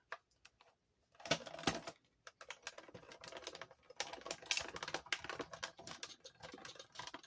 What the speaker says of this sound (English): Now if you hear like a crackle, it's okay. That's just cutting the through the paper.